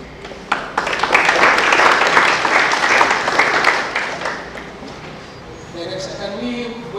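An audience at a polytechnic conference breaks into steady applause that swells for a few seconds and then tapers off, with a voice speaking over the clapping toward the end.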